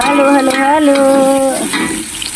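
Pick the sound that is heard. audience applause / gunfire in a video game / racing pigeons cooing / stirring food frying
stirring food frying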